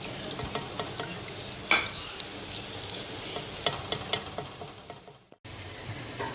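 Onions fry in a pan until light brown for a Pakistani kofta curry, giving a steady dense sizzle with occasional pops and stirring clicks, close and alone.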